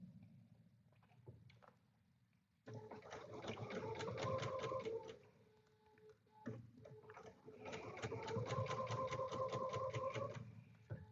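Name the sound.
sewing machine stitching fabric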